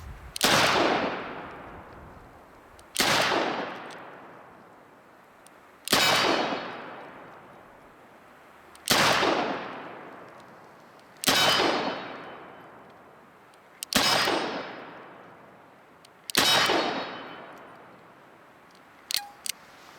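Seven loud, sharp shots from a Smith & Wesson 686+ .357 Magnum revolver, evenly spaced a few seconds apart, each with a long ringing decay, followed by a couple of faint clicks.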